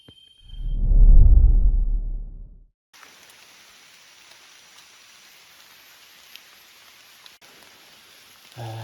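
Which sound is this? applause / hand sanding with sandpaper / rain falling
rain falling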